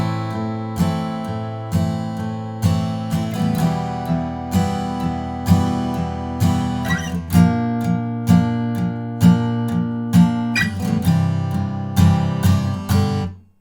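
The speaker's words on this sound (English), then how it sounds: "So the pre-chorus sounds like this." Acoustic guitar strumming the pre-chorus chords of Bruno Mars' When I Was Your Man, with a steady down-up rhythm and chord changes, close and full, with no voice over it.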